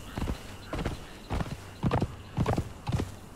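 A horse in the video game Conan Exiles clops along in a steady rhythm of hoofbeats, the footfalls close and distinct, with a whinny mixed in.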